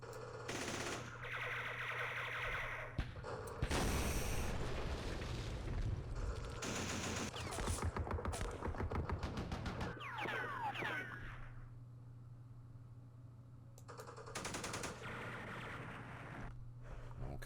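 Gunfire in the Vietnam War strategy game Campaign Series Vietnam, set at the Battle of Dak To: dense bursts of machine-gun and rifle fire rattle loudly for several seconds, ease off, then return in another burst near the end.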